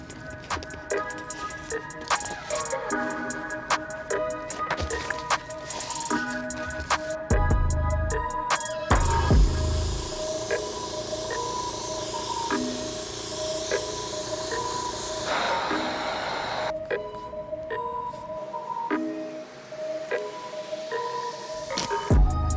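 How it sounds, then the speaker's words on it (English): Airbrush spraying blue paint onto a pair of Air Jordan 4 sneakers, with bursts of close, steady hissing spray broken by short pauses and faint handling noises between passes. "we can lay down our blue using an airbrush"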